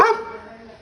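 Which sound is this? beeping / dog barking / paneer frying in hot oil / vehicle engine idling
dog barking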